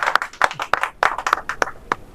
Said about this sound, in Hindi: इसके लिए ताली हो जानी चाहिए